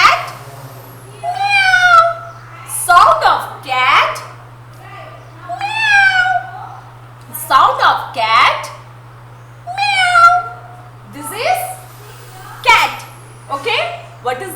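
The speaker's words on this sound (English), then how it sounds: "Sound of cat is meow." Repeated cat meows, about a dozen rising and falling cries, come close and loud during a nursery animal-sounds lesson, mixed with voices and a constant low hum underneath.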